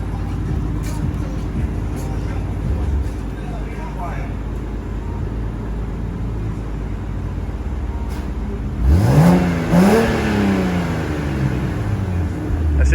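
A single-turbo BMW N54 engine in a 6-speed car idles with a low rumble, then revs sharply twice near the end, each rise climbing and falling back quickly, loud and close.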